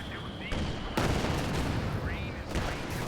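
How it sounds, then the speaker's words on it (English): Machine gun bursts and mortar explosions in a World War strategy video game, dense overlapping gunfire with heavy booms near the middle, under continuous background battle noise. "Oh, machine gun in the building. Where are those mortars?"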